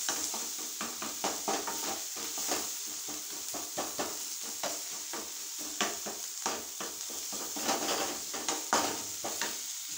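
Onions sauté with garam masala on a nonstick tawa, with rapid, rhythmic scraping and tapping strokes repeating over a continuous sizzle.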